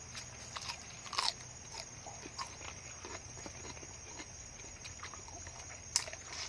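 Large tiger prawns eaten with fresh vegetables alongside spicy papaya salad, close crunchy bites and wet chewing with a couple of sharper snaps, no talking.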